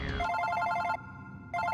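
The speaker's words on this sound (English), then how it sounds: "Oh, wait a minute, that's my phone." A phone rings in the video game Super Paper Mario: a bright electronic trill that repeats in two bursts with a short gap, loud and clear with no talk over it.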